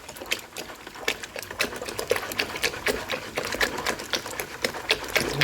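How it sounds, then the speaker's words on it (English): A paddle spoon stirs beer wort vigorously to aerate it, making rapid, rhythmic sloshing and splashing strokes. The liquid churning is close and continuous, with repeated swishes that have a bubbly, gushing quality. "I'm going to give it an aeration with the holy paddle spoon thing"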